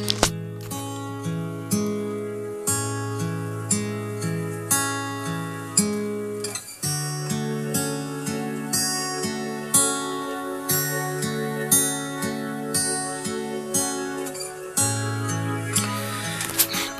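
Music plays through a loudspeaker driven by a small LM386 amplifier with bass boost and tone control, with a steady melodic line over a pulsing bass at moderate level, no talking.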